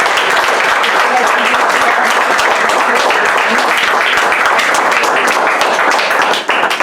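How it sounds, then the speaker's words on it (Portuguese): Sustained applause fills a church service, dense clapping from a full congregation at steady loudness with no break, a few voices mixed into the crowd noise. "Então eu quero que você aplaude o Senhor nessa noite."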